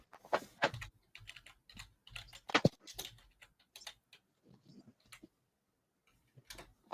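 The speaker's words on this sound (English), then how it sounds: "keyboard noises" Computer keyboard typing up close: quick irregular bursts of crisp key clicks with short pauses between runs, no talking.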